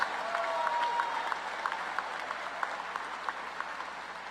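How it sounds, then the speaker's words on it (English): Warm applause from a commencement audience at the NCCU 2017 winter ceremony, a broad wash of many hands with a few sharper claps standing out, moderately distant and steady throughout. "Please join me in giving Janika a warm round of applause"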